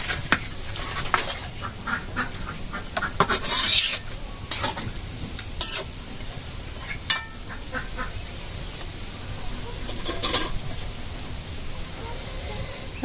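Marinated beef going into a cooking pot for a village-style beef curry, heard as wet scraping, stirring and sizzling with irregular clanks of a utensil against the pot, close and fairly loud throughout.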